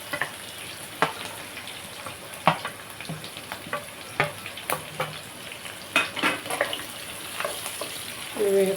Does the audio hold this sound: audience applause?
no